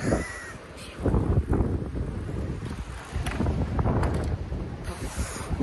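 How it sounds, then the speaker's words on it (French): Strong wind roars and buffets the microphone in heavy gusts while cycling, with a crow cawing faintly in the background. "Le vent aujourd'hui, c'est le plus fort que j'ai jamais eu depuis le début du voyage."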